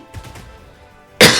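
A person coughing in a short burst of three quick, muffled coughs, then a loud sharp clearing burst at the end, close to the microphone.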